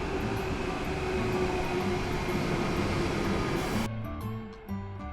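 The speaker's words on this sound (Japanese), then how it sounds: "トンネル方面に走り去っていきました。" An Austrian long-distance locomotive-hauled passenger train passes on a new line toward a tunnel, a loud steady rumble and rail roar that holds, then cuts off sharply, leaving fainter rhythmic wheel clatter.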